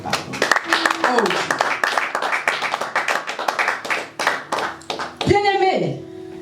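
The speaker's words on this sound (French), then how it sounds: "Acclame encore pour le pardon" A congregation claps during a church worship service, a dense, steady patter of many hands under loud ongoing talk, with a brief swell of voice near the end.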